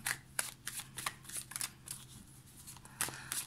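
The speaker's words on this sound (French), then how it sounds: "on va tirer 3 cartes pour les blocages" Tarot cards drawn from a deck during a reading: a quiet, close series of soft, quick card flicks and slides, repeated in an uneven rhythm of short bursts, alone with no voice.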